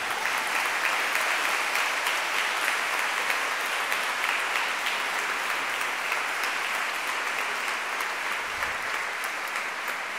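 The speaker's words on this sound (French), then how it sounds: "Je crois qu'on peut vraiment applaudir le service des couples et familles qui a bien préparé." Sustained audience applause filling a basilica during a church gathering for couples and families: dense, steady clapping from a large crowd that holds at full strength for the whole stretch, with no voices on top.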